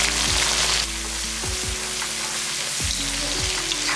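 Small shallots sautéing in hot oil for a tangy tamarind yam curry, a steady close sizzle with soft spattering and a few low spoon scrapes, no voices.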